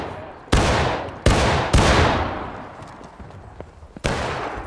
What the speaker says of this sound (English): Use this last volley. Get ready. After this reload, we're going in. Ready? Fire at will.